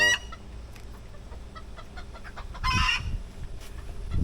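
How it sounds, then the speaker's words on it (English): Chickens cluck and squawk nearby in short bursts, with one louder, agitated outburst partway through amid a light outdoor background. "I don't know what the deal is with those guys. Crazy chickens."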